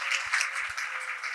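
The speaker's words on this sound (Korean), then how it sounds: "여러분 박수 부탁드립니다" Applause from the audience at a consulting firm's year-end talk concert after a lucky-draw winner is announced, a soft, fairly steady patter of clapping heard from a distance.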